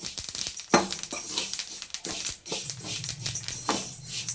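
Sesame seeds roast in a hot kadhai for til ladoo, popping and crackling in irregular sharp bursts up close, with light scraping of the pan between them.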